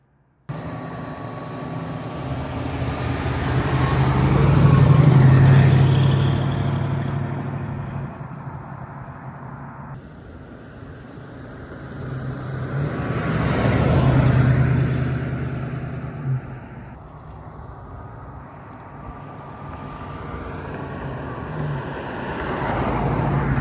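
A 1972 Ford Mustang Convertible driving down the road, its engine rising and falling in two broad swells as it passes, loud and steady with no talk.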